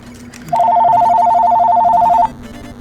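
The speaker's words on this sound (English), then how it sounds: "That's my phone!" A mobile phone rings close and loud in one sustained burst of about two seconds, a warbling electronic tone over quiet room noise.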